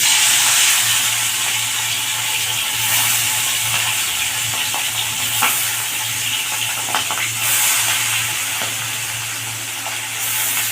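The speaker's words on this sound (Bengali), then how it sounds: "তেল গরম হয়ে গেছে, এবার মাছটা ভেজে নেব।" Small rohu-type fish frying in hot oil in a pan, a loud, dense, continuous sizzle and hiss close up, with faint occasional pops and no talking.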